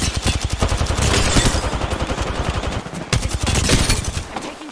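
Rapid automatic gunfire from Apex Legends combat, loud and close, with dense bursts of shots in quick rhythm filling the whole stretch and a brief lull before another heavy volley.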